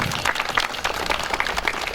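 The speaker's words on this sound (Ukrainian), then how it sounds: "Аплодуємо, аплодуємо, молодці" An audience at a Physical Culture and Sports Day celebration claps after a performance, a steady, moderately distant patter of many hands with no voices over it.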